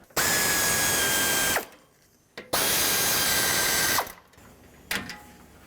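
Power ratchet spinning out the 8mm bolts that hold the A/C condenser on a 2008-2010 Ford F-250, two loud sustained whirring runs of about a second and a half each, separated by short pauses and a brief final burst.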